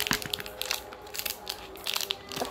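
Scissors snipping and crunching through plastic toy packaging in a noisy kitchen, a run of close, irregular crinkly cuts and rustles with no talking.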